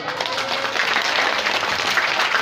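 A mosque gathering breaks into hand clapping, a brief, even wash of many hands clapping together at moderate volume, steady throughout.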